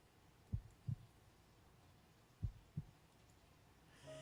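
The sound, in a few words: heartbeat sound effect in the video game To the Moon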